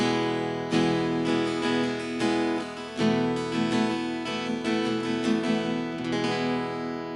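Legacy MJG 616 CEQ acoustic-electric guitar picked continuously with a bright, thin, treble-heavy tone and little low end, bass EQ turned off, playing on its own.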